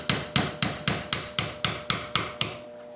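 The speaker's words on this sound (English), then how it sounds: "I'll take my 1/8 inch roll pin punch and I'll punch the pin out." A 1/8 inch roll pin punch is struck with a hammer to drive a trigger pivot pin out of a pistol frame's locking insert, giving ten sharp, evenly spaced metallic blows close by, alone with no talk.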